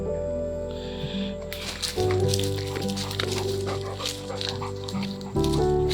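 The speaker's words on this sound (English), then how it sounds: "that dog is absolutely desperate to go with us" An eager dog whines and whimpers in high, wavering tones, close by and insistent, over a steady rumble in the background.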